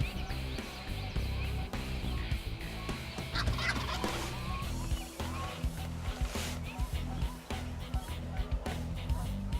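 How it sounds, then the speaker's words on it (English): Wild turkey gobblers gobble repeatedly during a spring hunt in Dryden, New York, heard from a blind, several birds calling in bursts at moderate distance over outdoor background noise. "they've got a bunch of gobblers right out in front of them"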